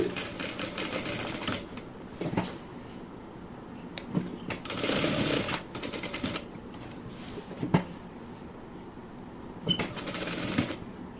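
A sewing machine stitches around a garment's neckline with a quarter-inch seam allowance, running in several short bursts of rapid clattering with pauses between them, close and moderately loud.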